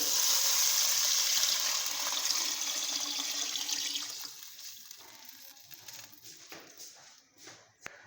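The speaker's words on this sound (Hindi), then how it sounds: "इसमें तकरीबन 1 लीटर पानी ऐड करूँगा।" Water, about one litre, runs steadily and loudly into a cooking pot for about four seconds, then thins to a trickle with scattered drips and a small clunk near the end.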